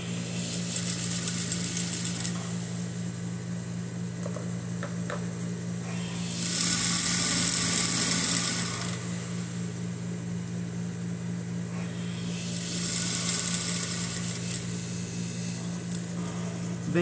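A sewing machine stitches the hem of a gypsy-style blouse in two steady bursts of whirring, each lasting a couple of seconds, over a constant low electrical hum.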